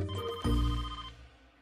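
A telephone ringtone sounds as someone calls a doctor, a short bright electronic ring that cuts off after about a second and then decays, with no voices.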